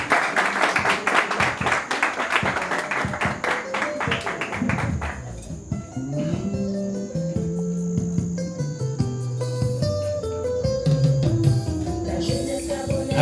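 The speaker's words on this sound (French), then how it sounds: "Applaudissons pour Madame le Président." An audience at a reception applauds the Senate President with dense, continuous clapping for about five seconds, then the clapping thins out as music takes over.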